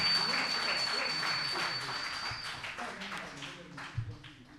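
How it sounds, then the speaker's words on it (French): An audience claps steadily at the final of a best-presenter award contest, the applause fading gradually while a voice speaks over it. "Sous vos applaudissements, s'il vous plaît."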